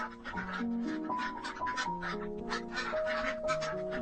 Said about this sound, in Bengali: সোনালী হাঁসের বাচ্চাগুলোকে ছেড়ে দেয় পোকামাকড় খাওয়ানোর জন্য